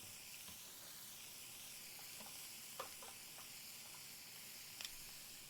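Shrimp frying in a pan, a faint, steady sizzle and hiss with a few small pops and crackles scattered through it.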